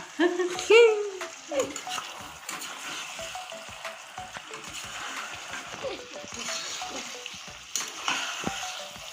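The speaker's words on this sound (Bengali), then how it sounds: "মাংসটা আমি আরো সুন্দর করে কষতে থাকবো" Chicken pieces for masala chicken kosha, leg pieces included, fry and sizzle steadily in a pan while being stirred, with scraping strokes throughout and a brief voice near the start.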